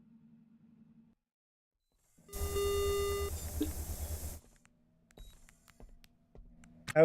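Alarm going off as a ship docks in port in the space game Ostranauts: a loud, steady electronic beeping tone lasting about two seconds, followed by quieter clicks and faint blips.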